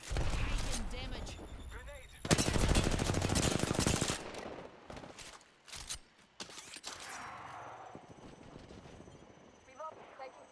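Gunfire in the video game Apex Legends, with bursts of rapid automatic shots and a dense, loud volley in the middle, then scattered single shots and clicks amid game effects and occasional talk.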